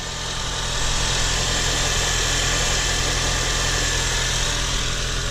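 A 2003–2007 Honda Accord engine idles steadily up close, a constant rumbling drone with a faint high power steering whine running through it, no voices.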